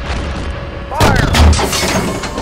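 In the tank simulator Steel Beasts a tank gun fires with a sudden heavy boom and rolling low rumble after a quieter engine hum, close and loud, amid voices over the radio.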